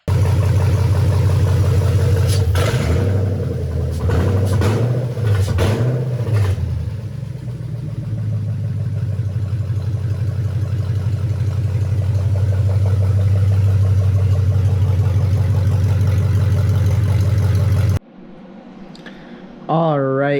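A BMW M62 V8 swapped into an E30 chassis cranks with a few uneven bursts, catches, and settles into a loud, steady, rumbling idle that runs for many seconds before cutting off abruptly, with voices briefly heard at the end.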